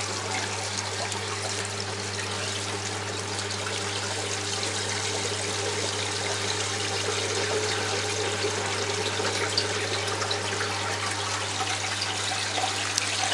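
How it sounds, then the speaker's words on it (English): Water runs back into the first chamber of an aquarium sump under a six-foot tank, a steady, even trickle and splash that continues unbroken alongside a constant low pump hum. "So I'll just turn that back on and release water back into the sump."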